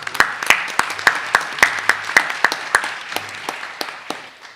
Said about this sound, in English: let's give the entire team a round of applause for all the work that went into this